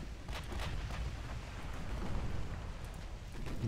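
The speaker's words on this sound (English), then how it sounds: "This is the salvo from the Love." Naval gunfire rumbles from a warship salvo in Ultimate Admiral: Dreadnoughts, a dense, continuous low booming over several seconds with scattered sharp cracks above it and no voices.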